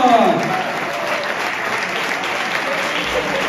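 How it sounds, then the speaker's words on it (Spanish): Audience applause at a neighborhood festival, steady dense clapping from a crowd that starts with a brief louder swell and then holds an even level for several seconds, with faint voices mixed in. "¡Un aplauso!"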